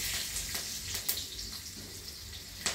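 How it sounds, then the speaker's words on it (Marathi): Green chili spitting and sizzling in hot oil tempered with mustard seeds and turmeric, a steady close crackle with sharper pops at intervals. "मोहरी चांगली तडतडली म्हणजे फोडणी चांगली झाली"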